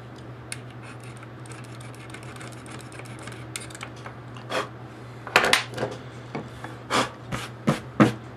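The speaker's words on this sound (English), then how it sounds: "let's just sand it a little bit more" A CPU heat spreader being sanded to remove thermal residue, with faint scraping at first, then a series of distinct rasping strokes that grow louder toward the end over a steady low hum.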